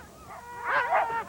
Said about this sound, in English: the most challenging sled dog race in the lower 48 states, Montana's Race to the Sky.